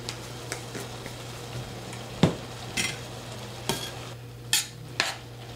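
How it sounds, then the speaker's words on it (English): Noodles cooking in a pan give a soft, steady sizzle, broken by occasional stirring scrapes and light utensil clicks against the pan, near and fairly quiet. "all you have to do is just wait for your noodles to cook"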